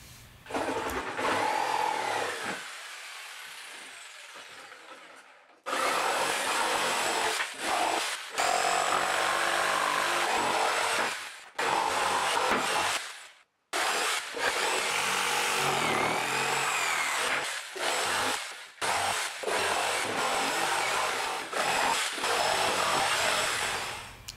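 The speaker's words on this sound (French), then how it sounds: "Il n'y a plus qu'à découper tout ça à la scie sauteuse." A jigsaw cuts through wood in long, loud bursts, stopping briefly between passes and starting again, close by with no talking.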